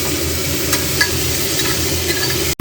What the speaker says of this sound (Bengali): এগুলোকে একটু অল্প তেলে ফ্রাই করে নিচ্ছি